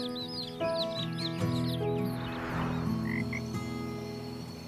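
Frogs croak in a lively outdoor chorus, with low rhythmic croaks layered under chirpy calls and faint clucking fowl nearby, steady and fairly close.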